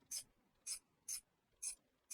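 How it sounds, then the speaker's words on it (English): A ratchet wrench bolting down an engine oil pan in a garage engine rebuild, with five evenly spaced, crisp clicking strokes, close but fairly quiet, and no voices. "We're going to bolt down the oil pan."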